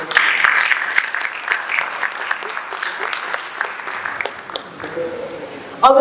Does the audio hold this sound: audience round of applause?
yes